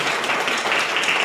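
An audience applauds at a healthcare non-profit talk, a short burst of steady, dense clapping at moderate level.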